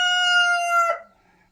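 A rooster crows once close by, a strong drawn-out call that breaks off into a short cluck and then quiet, with no talking.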